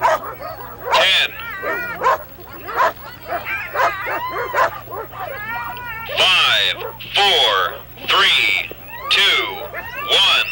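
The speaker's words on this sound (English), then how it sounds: "And Roxy Woods kicking off with 9 dogs out front, down 2 dogs from the day before" A team of nine sled dogs barks and yips in excited, repeated bursts at the start of a sled dog race, loud and close, with high whining calls between the barks.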